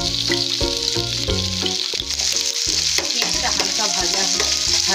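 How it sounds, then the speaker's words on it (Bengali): Onions fry in hot oil in a pan for a village-style masala dosa filling, with a loud, continuous close-up sizzle and rhythmic scraping from stirring. "দেখুন পেঁয়াজটা আমার হালকা ভাজা হয়ে গেছে।"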